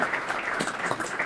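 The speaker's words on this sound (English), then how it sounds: "just a little round of applause for them" A small audience at a panel on artificial intelligence in Maine gives brief, fairly faint applause for the panelists, a short patter of many hands clapping.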